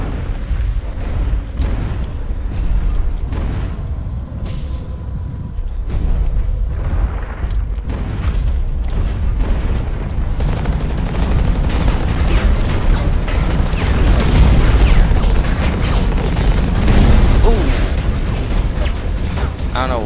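Heavy mech weapons fire in the Hawken shooter game as loud booming bursts and rapid gunfire, building in intensity toward the end over a dense rumbling background.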